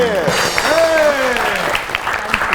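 Studio audience applause greets a guest on a Pakistani comedy talk show, a steady wash of clapping throughout with a voice speaking over it.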